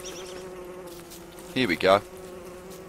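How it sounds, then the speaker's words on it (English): Bees buzzing in the Don't Starve video game: a steady insect drone throughout, swelling into a louder close buzz near the middle, with a brief spoken remark. "I should just blooming kill these stupid bees, shouldn't I?"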